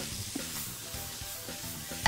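Bacon, shallots and garlic frying in a pan for pasta with chanterelles: a steady, soft sizzle with occasional stirring scrapes and small pops, close up and without talk.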